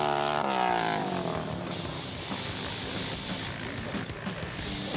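Yamaha and KTM motorcycles race on an ice track, engines whining loudly with a high revving note that falls away early, then a rough continuous roar of passing bikes, no speech.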